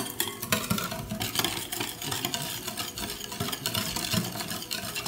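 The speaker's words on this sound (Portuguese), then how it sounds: "A gente vai mexendo ele aqui." Steady scraping and stirring of a utensil through mousse in a pan, with occasional soft clinks against the metal, continuous and close.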